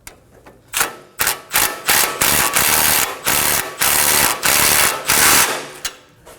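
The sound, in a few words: ratchet with 18mm socket tightening a sway bar link nut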